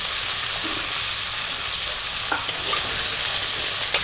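Chopped potatoes fry in a pan, making a steady, loud sizzle throughout, with a couple of brief stirring clinks near the end.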